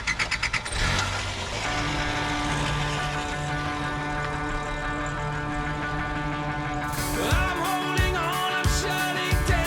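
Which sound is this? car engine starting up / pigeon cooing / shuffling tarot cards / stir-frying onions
car engine starting up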